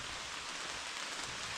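Cold rain falling outdoors at a tiny cabin building site, a steady soft hiss of drops on surfaces, faint and even throughout with no talk.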